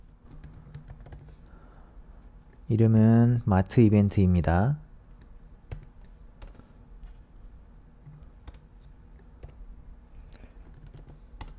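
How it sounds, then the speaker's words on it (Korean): Light, rapid keyboard typing clicks run through the clip, with a short burst of speech in the middle. "한번 직접 타이핑해서 확인을 해볼게요"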